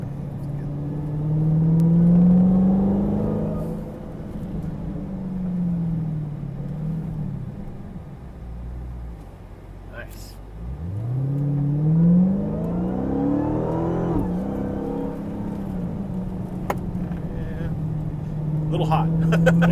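A 2017 Dodge Charger Hellcat pulls hard from inside the cabin, its engine rumble rising in two long surges with a supercharger whine climbing in pitch, easing off between runs, while people talk.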